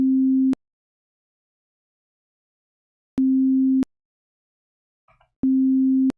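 Pure synthesized sine tone sounding in three short, steady bursts separated by silence, plain and unwavering with no other sounds around it.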